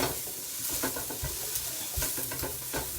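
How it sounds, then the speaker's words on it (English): Ginger roasting in a pan is stirred with a steady, close sizzle and crackle, while soft scraping strokes and low knocks recur every second or so, with no voices. "Give a good stir until it's roasted nicely."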